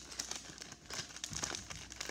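Plastic packaging of a LEGO Super Mario character pack being opened by hand, brisk close-up crinkling and crackling in irregular bursts with brief pauses.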